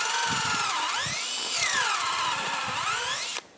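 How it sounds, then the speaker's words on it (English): A power drill bores a tap hole into a maple tree trunk, whining loudly and steadily up close while its pitch sags and recovers as it bites into the wood. It cuts off sharply near the end. "So I'll begin drilling tap holes."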